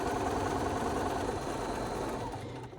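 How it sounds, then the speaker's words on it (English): A sewing machine stitches a quilt block corner to corner with a steady close-up whir and fast rhythmic needle chatter. It runs continuously without talk and eases slightly toward the end. "Just do corner to corner, sew it on the machine."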